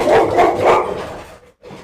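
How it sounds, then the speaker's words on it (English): Several dogs bark loudly and close by indoors, three rapid barks in a burst followed by quieter trailing yaps, with no talking over them. "These are my dogs."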